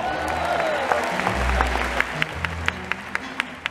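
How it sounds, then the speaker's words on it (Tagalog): Audience applause at a training event at PICC: a crowd claps steadily under low murmuring and a brief low rumble, with sharper individual claps punctuating the wash toward the end. "Mahina mga palakpak nyo!"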